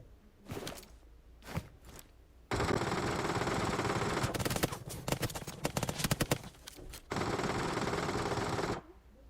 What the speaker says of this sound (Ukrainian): ззаді ще стріляють